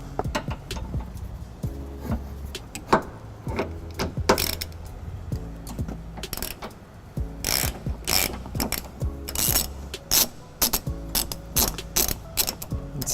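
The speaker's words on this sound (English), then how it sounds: "Go ahead and just spin the ratchet." A hand ratchet spins bolts under a 2014 Toyota Prius Plug-In during a trailer hitch installation, giving repeated bursts of sharp, rapid clicking with short pauses between them, close and loud with no speech.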